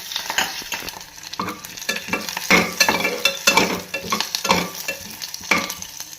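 Cumin seeds, curry leaves and dried red chillies hit hot oil for dal khichdi, crackling and sizzling loudly with bursts of spattering and stirring.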